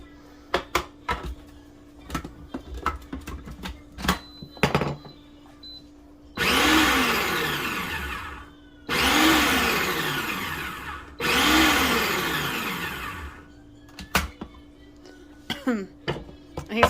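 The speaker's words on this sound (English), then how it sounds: "We decided to chop our onion in the food processor." Onion chopped in a food processor for salsa: three loud whirring bursts of a couple of seconds each, close up, separated by short pauses, with clatter and faint noises around them.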